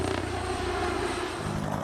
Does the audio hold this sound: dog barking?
no